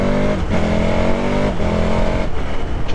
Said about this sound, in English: Considering this is a standard exhaust, it sounds really naughty.